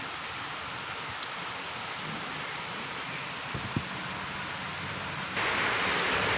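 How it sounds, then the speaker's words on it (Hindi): Heavy rain pours down steadily as a dense hiss, growing louder near the end, with a few faint knocks underneath. "और ज़ोरों से बारिश हो रही है।"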